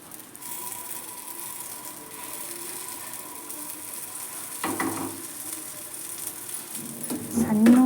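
Paddu batter sizzles in a heated paddu pan with a steady, close frying hiss. Some clattering of the pan comes near the end.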